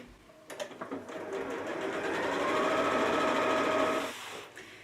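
A sewing machine stitching two fabric pieces of a Japanese knot bag together, starting with a few clicks, then running in a steady rising whir for about three seconds before stopping, close and alone.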